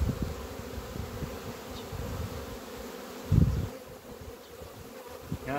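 Honeybees buzz steadily around a hive, a soft continuous hum with occasional closer bees droning past the listener.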